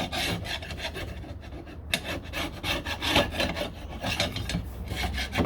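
A flat-blade screwdriver scrapes gunk from the door of a 1969 Corvette, a close, loud, rasping run of quick repeated strokes with a brief pause partway through.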